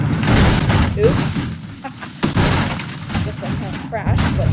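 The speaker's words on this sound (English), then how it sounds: "Guess I kind of crashed" A Cherrier Vivace electric car crashes in BeamNG.Drive with a sharp thud and shattering impact, followed by scraping knocks and a second clatter near the end, all under a steady talking voice.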